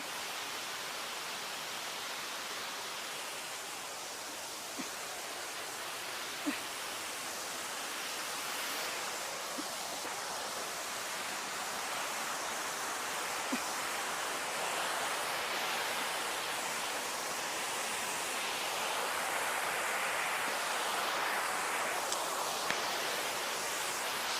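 Punna waterfall in Idukki, Kerala, reached along a rocky path, rushes as a broad, steady hiss of falling water that holds at an even level throughout, with occasional faint knocks and rustles nearby.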